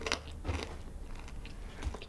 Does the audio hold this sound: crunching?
yes